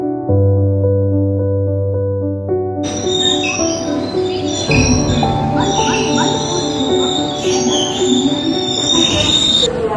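Passenger train in India running on rails at a railway station at night, a loud steady rumble with a sustained tonal hum and squealing wheels, close by and filling the whole stretch.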